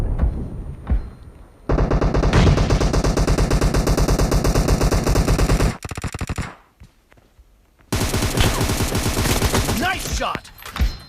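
Rapid automatic gunfire from a PUBG 4vs4 video game match, loud sustained bursts with brief pauses between volleys, with faint game voice callouts underneath.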